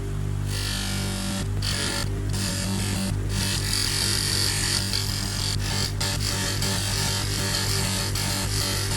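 Compound polishing on a spinning buffing wheel for a 1954 oval Volkswagen Beetle handbrake cover: a steady, loud motor drone with a rough rubbing hiss, broken by a few brief bursts of harder friction noise, with no talking.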